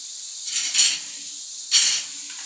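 Two loud hissing sizzles as tomatoes and lemon hit a hot pan while cooking Gujarati potato sabzi, each burst rising sharply then fading into a quieter background sizzle.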